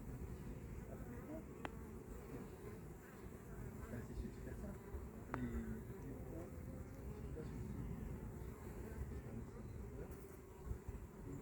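A steady, dense buzz of many honeybees at a hive fills the whole clip, with a person speaking briefly over the swarm.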